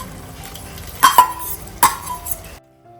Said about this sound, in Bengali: এবার দিয়ে দিচ্ছি কড়া করে ভেজে রাখলাম মাছগুলো